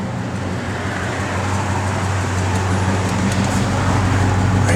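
A 1971 Chevrolet Chevelle SS engine runs with a steady, loud low rumble that swells slightly toward the end, heard up close with no talking.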